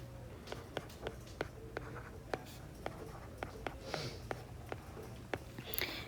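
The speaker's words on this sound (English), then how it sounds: "So I'm going to write those down first." Pencil or pen writing on paper, a series of quiet, close scratchy strokes and light taps at an uneven rhythm, with faint background noise and no talking.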